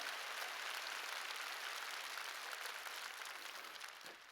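A church congregation applauds during a sermon, giving a continuous, fairly faint wash of many hands clapping that fades slightly at the end.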